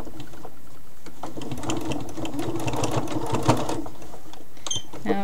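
A sewing machine runs steadily while stitching a cloth doll, a continuous close mechanical whir and rapid needle chatter lasting the whole stretch with no talk.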